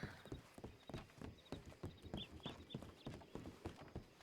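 Horse hooves clip-clopping in a roleplay video game, a steady walking rhythm of sharp, evenly spaced hoof knocks, close and moderately loud, running throughout without talking.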